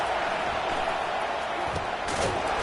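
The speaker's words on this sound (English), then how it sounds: "Listen to this crowd just shaking the girders of this place, trying to help their defense." A packed stadium crowd at an American football game roars steadily and loudly, urging on the home defense. The noise is a dense, unbroken wall of sound that fills the whole stretch.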